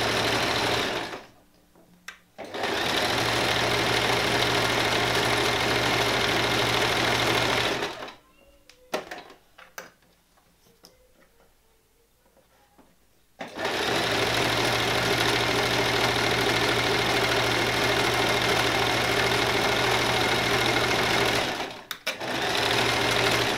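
A sewing machine stitches the seam of a Callisto top in loud steady whirring runs, stopping briefly twice, with a longer quiet gap of small handling noises in the middle.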